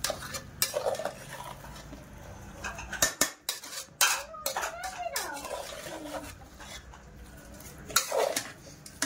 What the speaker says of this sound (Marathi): मॅरिनेशन असं छान मिक्स करून घ्यायचं